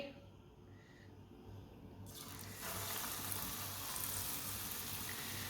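Kebabs dipped in paste are dropped into hot ghee and start sizzling, the quiet frying hiss swelling to a loud, steady crackle partway through, with no talking.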